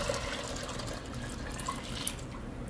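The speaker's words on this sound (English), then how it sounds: "I'm going to pour the whey back into my pot." Continuous pouring and splashing of whey into a pot while making mozzarella, steady and close, with a faint drip near the end and no voices.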